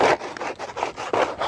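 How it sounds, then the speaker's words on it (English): Beeswax being rubbed by hand into plastic beehive foundation, a quick series of close, rasping back-and-forth scrubbing strokes, loud and rhythmic with no talk. "I just rub it into the plastic like this"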